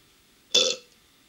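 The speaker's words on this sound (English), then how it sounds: "Excuse me, I burped." A single loud burp rises sharply and fades within a fraction of a second, standing alone against a quiet background.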